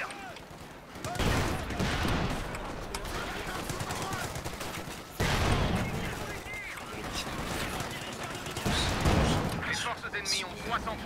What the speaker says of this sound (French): Le Sherman se prend des tirs.